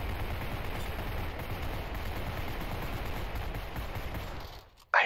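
Sustained rifle gunfire from the zombie shooter game Zombie Riot, a dense continuous volley of shots that runs steadily for several seconds, then drops out briefly before a sharp loud burst at the very end.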